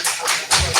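A council meeting audience claps, a brief burst of several close, sharp claps.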